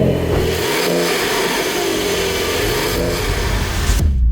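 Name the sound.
Porsche 911 S engine revving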